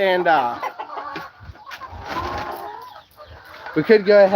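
A flock of chickens on a farm, some of them sick, cluck and call in short bursts close by, with a person talking over them at times.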